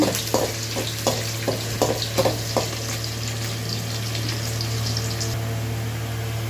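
Onions sizzle steadily in a hot pan with green chillies and curry leaves for kasarakaya fry, broken early on by several rhythmic scraping stirs, then a continuous fry hiss alone under a low steady hum.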